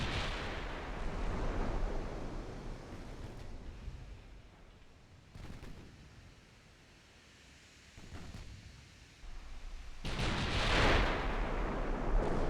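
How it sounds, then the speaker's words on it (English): A torpedo detonates in the naval strategy game Ultimate Admiral Dreadnoughts, a deep, rumbling boom that rolls out, fades, then returns as a second heavy blast near the end, with no talking. "So 1 torpedo detonate here."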